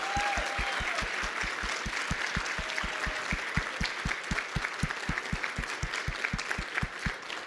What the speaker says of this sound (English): now let's go ahead and applaud